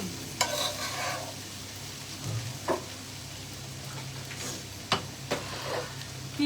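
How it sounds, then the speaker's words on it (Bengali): Potatoes fry in a pan in a home kitchen, a soft, steady sizzle broken by a few sharp clicks and scrapes of stirring, fairly quiet with no voices. "আলু ভাজা করতেছি"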